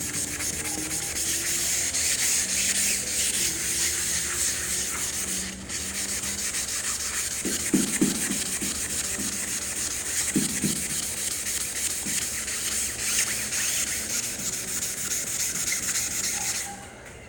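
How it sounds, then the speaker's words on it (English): Guide coat smeared and rubbed by hand onto primed panels of a 1961 car body, a steady close scrubbing and rubbing texture lasting throughout, with a few faint thumps and no talk. "And you just smear it on the car."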